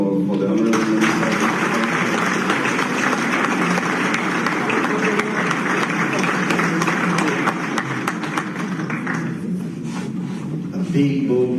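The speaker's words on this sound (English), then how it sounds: "another round of applause for the Honorable Minister" An audience at a conference in Freetown, Sierra Leone applauds steadily for several seconds, a dense wash of many clapping hands that tapers slightly toward the end.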